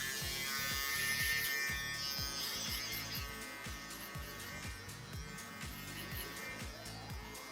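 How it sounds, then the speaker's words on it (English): An electric shaver buzzes steadily close by during a skin fade haircut, its hum pulsing in quick repeated strokes as it moves, with no talking. "Shaver."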